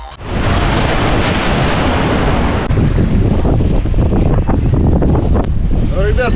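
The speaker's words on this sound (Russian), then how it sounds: "Море Лаптевых встретило экипаж штормом и 6-бальными волнами." Storm at sea on the Laptev Sea in the Arctic with six-point waves, loud roaring wind buffeting the microphone over crashing surf around a sailing vessel, continuous and close.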